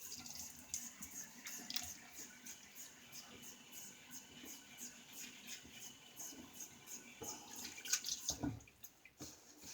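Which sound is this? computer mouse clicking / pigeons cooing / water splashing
water splashing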